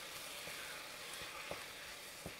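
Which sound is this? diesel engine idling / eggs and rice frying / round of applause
eggs and rice frying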